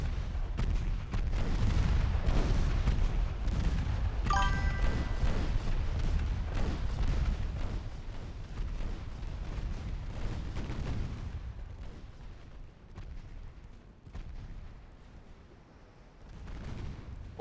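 A 4-inch naval gun barrage in a naval warfare game, with dense, rumbling booms and overlapping gunfire rolling continuously at high volume before gradually easing off.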